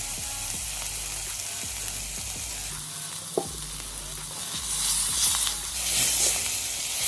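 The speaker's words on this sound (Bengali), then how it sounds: "এটাকে ভালোভাবে ভেজে নিতে হবে।" Spices fry in oil for ghugni with a constant sizzle and hiss, a spatula scraping and tapping the pan now and then, and the frying growing louder toward the end.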